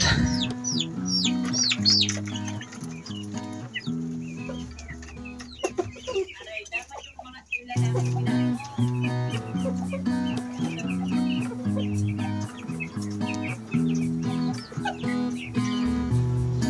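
Backyard chickens cluck repeatedly, close and loud, with rooster-like calls and bird chirps mixed in, some ducks and Silkie chickens among the flock; steady, overlapping clucking runs throughout with a brief quieter break midway.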